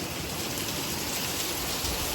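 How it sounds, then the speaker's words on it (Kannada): Heavy rain pours down on the greenery of a heritage resort and farm near Udupi, a dense, even hiss of drops that stays loud and steady throughout, with no voices. "ಈಚೆ ಬಂದು ನೋಡಿದ್ರೆ ಜೋರು ಮಳೆ ಬರ್ತಿದ್ವಿ."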